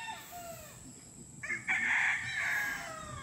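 Young roosters (stags) on a farm, one crowing clearly at moderate distance with a strained, rising cock-a-doodle call over faint background clucking and farmyard ambience.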